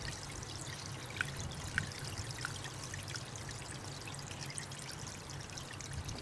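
Water trickling through a pipe into a large new grow bed, a steady close pouring stream with a few faint drips over it, continuous throughout.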